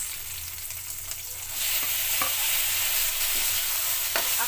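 Tomatoes sautéed with onions in a pan for a moringa fruit dish, a steady close sizzle with soft stirring scrapes that grows louder partway through, no voices.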